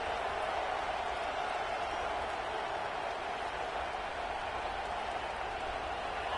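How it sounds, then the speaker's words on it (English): A loud home crowd at a Penn State vs Oregon college football game in Autzen Stadium roars steadily on a third down, a dense, continuous wash of cheering with no letup. "Man, this crowd really affecting the football game."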